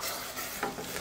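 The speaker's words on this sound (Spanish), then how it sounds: "Revolvemos." Meat stirred in a hot frying pan for empanada filling, a steady sizzle under brief scraping strokes of a utensil, close and fairly loud with no talking.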